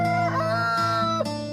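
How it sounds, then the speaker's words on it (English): A pet rooster crows at evening feeding time, a loud, close, drawn-out call that rises and wavers through several strained, harmonic-rich notes and cuts off sharply at the end. "in the evening, when they're going to sleep and I'm feeding them, they crow"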